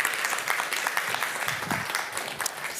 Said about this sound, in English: you don't have to clap for me